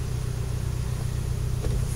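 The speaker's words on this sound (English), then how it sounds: "That looks like the Guru's car right there" A car passes at a gig or show, its engine a low steady rumble holding at moderate distance throughout, with no voices over it.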